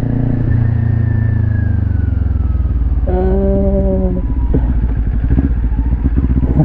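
A motorcycle climbs uphill on a mountain road at Mt. Samat, its engine loud and close, droning steadily under load. A short tonal blip cuts in about halfway through.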